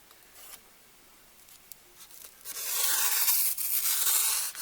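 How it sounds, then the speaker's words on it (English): Scissors cut through a cardboard cake round, trimming a 10-inch board down to 8 inches: a few faint snips first, then a long, loud rasping cut close by with no talking. "I need an 8-inch cake round for this, and all I have is a 10. So I'm going to try and cut it out."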